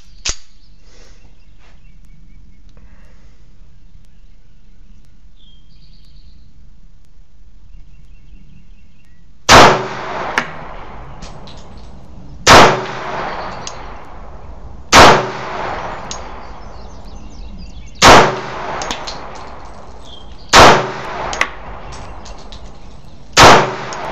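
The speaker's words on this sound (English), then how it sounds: "here goes our 1911. First time firing the rock." Rock Island Armory 1911 pistol fired at a shooting range, six loud sharp shots spaced a few seconds apart after a quiet lead-in, each with a short ringing decay.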